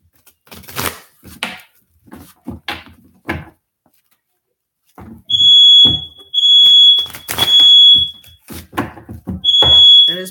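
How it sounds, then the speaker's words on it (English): A household smoke alarm shrieks in loud, piercing beeps that come in repeated bursts of about a second each, alternating with a person talking nearby. "That is my smoke alarm. It'll be going off probably often."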